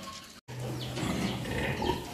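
A newborn litter of piglets on a pig farm after farrowing, heard close by. They squeal and grunt continuously and busily, with brief higher squeals over the steady clamor.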